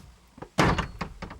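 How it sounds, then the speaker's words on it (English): Knocking on a door inside the old Ancient Ram Inn, several dull wooden thuds with one louder hit and a few softer knocks following at irregular intervals. "that's where he knocks"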